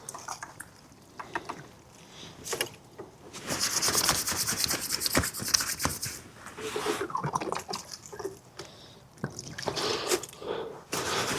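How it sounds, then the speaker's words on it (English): Hands being rubbed and washed outdoors with water under a tarp camp shelter, a close scrubbing and splashing that comes in bursts and swells, with no talk. "Wash my hands quickly."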